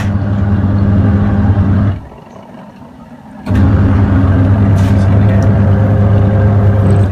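A loud, steady motor drone with a low hum from an Electrolux EWS13262WA washing machine, cutting out briefly for about a second and a half, then resuming just as strong.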